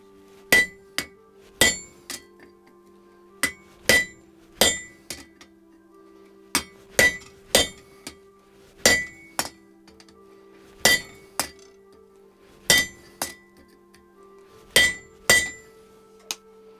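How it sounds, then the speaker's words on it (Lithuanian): A hammer striking a chisel to cut a metal item in two, sharp ringing metallic blows in uneven pairs and clusters, close and loud with quiet gaps between strikes. "dabar imu kirstuką ir su juo kirtu į dvi dalis"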